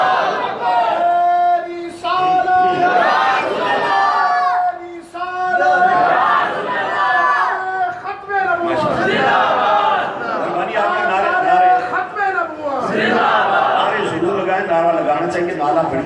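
A large religious crowd at a mehfil-e-Mairaj gathering in Aroop Mor shouts the slogan Naara-e-Takbeer in loud, repeated, rhythmic waves of massed voices that fill the whole stretch.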